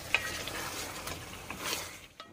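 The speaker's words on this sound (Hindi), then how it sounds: "मसाले को मिक्स करेंगे और इसको भी अच्छी तरह से भून लेंगे" Ground masala is stirred and fried with chicken in a pan, soft scraping and stirring with a low sizzle and a few light metallic clicks, then fading quiet near the end.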